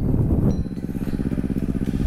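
A manual-gear motorcycle engine idles with a rapid, throbbing putter, revving slightly up close during beginner riding practice; a short voice is heard at the start.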